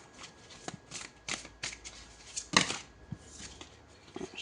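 Tarot cards being shuffled and drawn for a reading, a run of crisp riffling flicks and soft slaps in quick irregular bursts, close and fairly quiet, with no speech.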